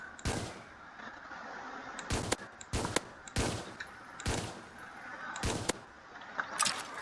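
Repeated gunshots from a firearm in the video game A Dusty Trip 2 ring out in sharp, loud bursts, about six or seven irregularly spaced cracks over a steady background hum.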